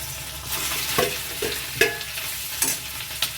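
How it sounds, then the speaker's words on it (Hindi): Potatoes frying and stirred in a pan give a steady close sizzle, broken by repeated scraping stirs about every half second to second, with no voices. "इसी गर्मी में आलू कर दिया हमने फ्राई।"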